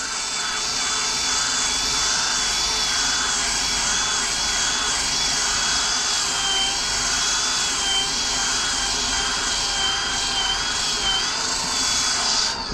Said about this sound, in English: So what you do, you grab your sander, and just sand this down.